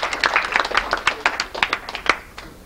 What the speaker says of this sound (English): So if you give them a round of applause.